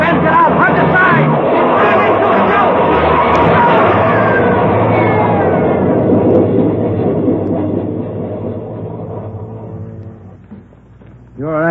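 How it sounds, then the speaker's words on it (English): A train rumbles loudly through a subway tunnel, a heavy continuous roar with rising squeal that fades toward the end, while people shout over it. "There's a train coming through."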